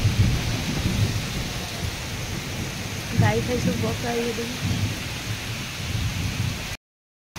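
Heavy rain pours down as a steady, dense roar, with a low rumble of thunder in the middle and someone speaking briefly over the downpour.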